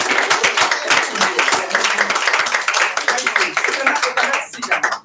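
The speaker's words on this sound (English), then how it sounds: "can we give a big applause to Angela?" A standing audience at an International Women's Day event applauds Angela, with steady dense clapping filling the room for several seconds before stopping abruptly.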